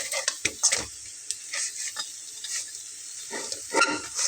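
Breakfast snacks frying in oil in a pan, four pieces at once, with a soft steady sizzle broken by scattered clinks and scraping stirs of a utensil against the pan, close and fairly quiet.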